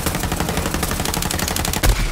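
Rapid automatic gunfire from Borderlands 3 rattles in a dense, continuous burst of loud, fast shots, with a heavier thump near the end.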